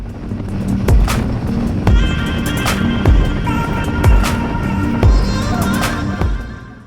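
A Royal Enfield Himalayan 450 motorcycle cruising on a highway heading out of Sydney: a loud, steady engine drone mixed with rushing wind, with a few soft thumps along the way and no talking.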